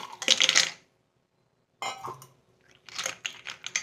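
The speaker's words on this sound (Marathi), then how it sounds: "आता मीठ आणि हळद मिक्स केल्यानंतर मी ह्यामध्ये बर्फ घालणार आहे" Ice cubes drop into ghee mixed with salt and turmeric for homemade butter, giving close, crisp clattering bursts separated by brief silences.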